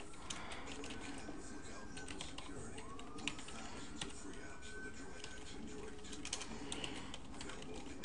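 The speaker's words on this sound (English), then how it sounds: "Gonna type in my YouTube channel." Computer keyboard typing while a name is entered into a text field in Sony Vegas 9 editing software, a steady run of light clicking keystrokes close by, with soft background noise.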